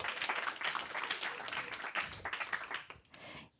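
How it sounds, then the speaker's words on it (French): A conference audience at a women-in-tech speaker event applauds a named candidate: fairly faint, continuous clapping from many people that fades out near the end. "Vous pouvez l'applaudir."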